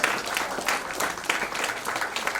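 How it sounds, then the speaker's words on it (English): A conference audience of students claps steadily throughout, a dense, even wash of applause filling the hall with no break. "I want to give them a great round of applause"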